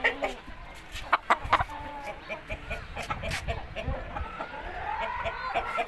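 Pakistani-Vietnamese cross hen clucking in short, repeated bursts close by, with other fowl sounds in the background of a farm yard.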